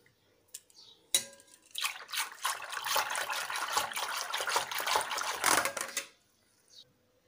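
Curd being stirred into milk in a bowl for mishti doi, sweet Bengali yogurt, gives a steady wet sloshing and scraping that runs for about five seconds, close and fairly loud, with no talking.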